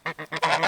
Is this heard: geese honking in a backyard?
yes